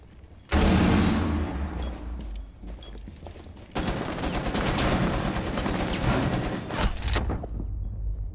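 Sustained automatic gunfire rattles loud and close in the Ghost of Tabor VR shooter, with rapid repeated bursts broken by a short pause before the firing resumes and then cuts off.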